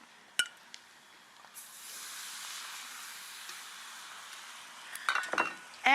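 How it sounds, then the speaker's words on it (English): Sherry hits a hot pan of garlic and shallots thickened with a little flour, raising a hissing burst of steam that settles into a low sizzle, with clinks of a utensil at the start and end. "And then we're going to hit the pan with a little sherry."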